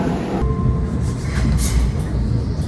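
A brand-new Italian regional train rumbles loudly from close range with a steady low roar and rolling wheel noise, a brief tonal whine and hiss over the top.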